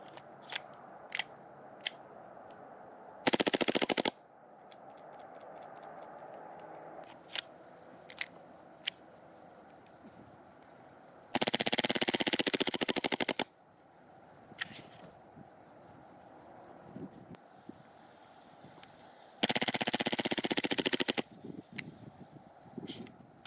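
An airsoft gas gun fires in semi-auto, with sharp single shots spread across the clip and three long, loud hissing bursts that sound like gas venting, all fairly close.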